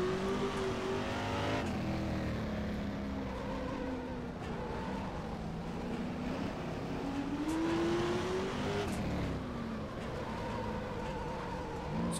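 A touring car engine in the rFactor 2 racing game at Winton revs hard through gear changes and throttle blips, with rising and falling tones and brief tire squeal, loud and continuous with no talking.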